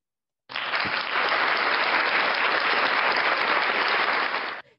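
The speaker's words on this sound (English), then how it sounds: "I have a clap sound effect." A canned applause sound effect plays alone, a steady dense burst of clapping that starts abruptly, holds at an even loud level for about four seconds, then cuts off.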